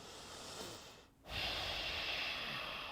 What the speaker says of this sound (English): Breathing in and out through your nose.